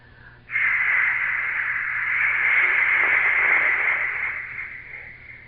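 A studio echo effect on a 1974 radio broadcast, presented as the sound of a ship being launched: one steady, bright sustained tone with a reverberant wash that starts sharply, holds for about five seconds, then slowly fades.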